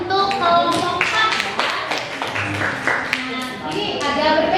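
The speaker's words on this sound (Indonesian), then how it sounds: "Ya, baik, tepuk tangan untuk kelompok 4." Students in an Indonesian school classroom clap for a presenting group, with scattered, uneven hand claps mixed with overlapping talk and children's voices.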